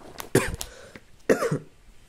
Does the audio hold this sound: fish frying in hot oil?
no